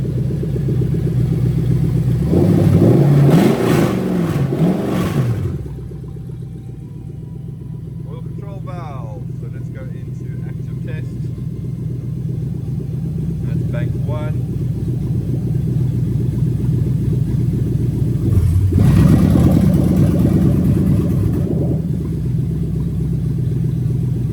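A Lexus 1UZ-FE VVT-i V8 fitted into an IS200 rumbles at idle, with louder revving bursts near the start and again toward the end, a steady low engine drone throughout and a few small mechanical clicks in between.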